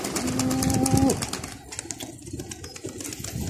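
Pigeons cooing close by, a low, tonal coo in the first second followed by softer rustling and faint calls against outdoor background noise.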